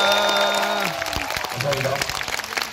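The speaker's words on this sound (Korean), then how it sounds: "여러분들의 힘찬 박수와 함께 물러가도록 하겠습니다" Crowd applause breaks out in a cinema after a film premiere screening, a dense wash of clapping under loud voices and cheering, with a tonal musical sound fading at the start.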